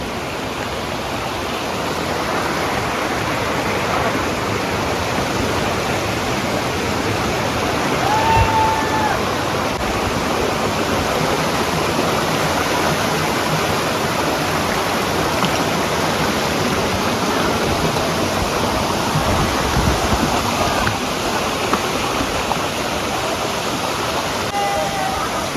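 Dudhsagar waterfall in a Goa forest pours as a continuous, loud, broadband rush that stays steady for the whole stretch, with faint whistles or toots in the background.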